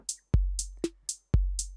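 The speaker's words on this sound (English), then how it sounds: "I'm just going to do a basic pattern of hi-hats on the offbeats" Programmed electronic drum pattern built in Ableton, with deep punchy kicks, a snappy snare and crisp offbeat hi-hats in a steady, moderate groove, loud and dry with nothing else playing.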